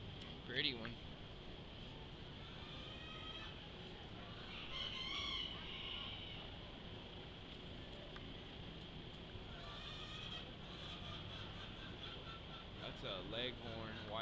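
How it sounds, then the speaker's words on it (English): White leghorn chickens in a county fair poultry barn cluck and crow amid a steady crowded din, with several crowing calls standing out at moderate distance and voices talking faintly in the background. "That's a leghorn, white leghorn. It's a pretty bird."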